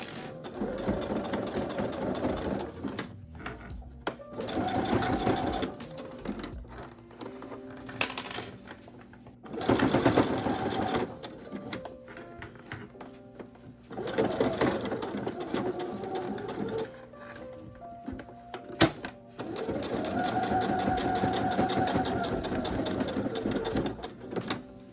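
Sewing machine top stitching the edges of a patchwork denim trench coat belt, its motor running in repeated bursts of steady whirring separated by short pauses, fairly loud and close with no voices.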